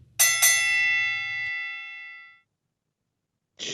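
A boxing-style round bell clangs twice in quick succession near the start, ringing out and fading over about two seconds, with a low hum underneath and a brief noise at the end.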